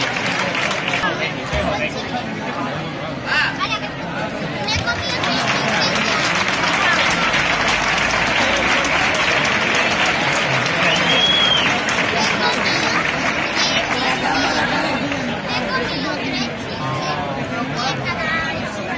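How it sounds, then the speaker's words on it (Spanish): Audience applause at the awards ceremony of a quick-painting contest, steady clapping sustained for the whole stretch with crowd murmur mixed in, fairly loud and continuous. "Un aplauso, gracias, enhorabuena."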